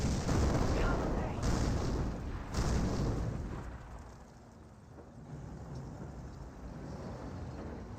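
Mortar half-tracks firing in Company of Heroes, with heavy low booming bursts near 0.5 and 2.5 seconds over a continuous rumbling battle din that eases slightly toward the end.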